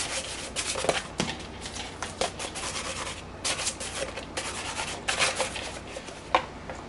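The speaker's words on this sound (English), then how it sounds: "Now I'm gonna start sanding the back side here" Hand sanding of plastic Stormtrooper armor parts, a close, continuous rasping rub in quick back-and-forth strokes with brief louder scrapes.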